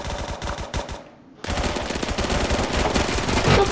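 MP7 submachine gun in Phantom Forces firing rapid automatic bursts, loud and close, with a brief pause before a longer continuous stream of shots.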